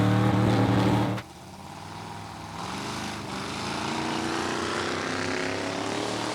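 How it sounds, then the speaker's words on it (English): A turbocharged drag race car at a drag week event roars loudly off the starting line, then the engine note drops abruptly into a steady, more distant drone as it pulls away. "Tom Bailey spooling the turbos and driving off the starting line."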